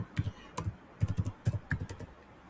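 Computer keyboard typing in short bursts of keystrokes, close and fairly quiet, with no voice over it.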